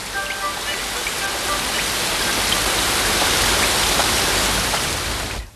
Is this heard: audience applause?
no